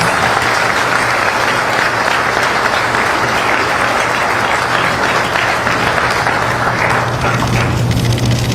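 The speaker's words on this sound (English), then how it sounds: "A big round of applause, please" Loud, dense applause from an audience at a military ceremony runs steadily for several seconds, filling the space with continuous clapping.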